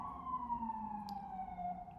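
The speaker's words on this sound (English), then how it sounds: "Sorry about the sirens." A wailing emergency vehicle siren sweeps slowly in pitch outside in New York City, distant and fairly faint, with low traffic rumble beneath.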